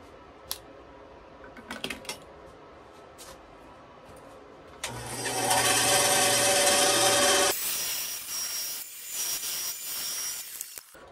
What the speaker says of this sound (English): Time to put this on the bandsaw.